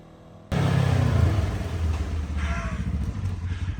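A Dodge project car with freshly swapped and bled brake lines drives off, its engine starting loud and steady with a deep rumbling drone that holds close throughout, with no talking.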